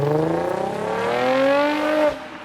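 A Lexus IS 350 sedan's V6 engine with F-Sport exhaust revs up, rising pitch climbing smoothly over about two seconds, loud and close, then drops away sharply as the throttle closes.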